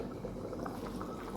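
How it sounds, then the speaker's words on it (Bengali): Egg curry bubbling in a kadai, a soft continuous simmer of thick gravy with small popping bubbles, close and steady, no voices. "ডিমের ঝোলও ফুটে গেছে"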